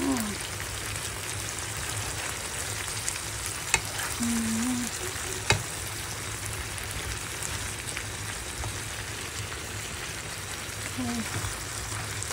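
Pinakbet vegetables with squash being stirred as they cook in a pan, a continuous bubbling sizzle with occasional utensil clacks, and a voice briefly speaking over it.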